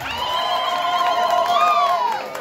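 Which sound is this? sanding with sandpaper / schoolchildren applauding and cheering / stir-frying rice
schoolchildren applauding and cheering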